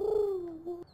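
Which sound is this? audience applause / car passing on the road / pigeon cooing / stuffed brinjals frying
pigeon cooing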